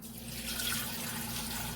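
Fresh spring water runs steadily over sea moss in a bowl, a soft, continuous splashing rinse heard close and faint.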